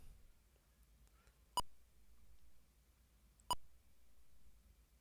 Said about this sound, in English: I think that's like a distress beacon, isn't it?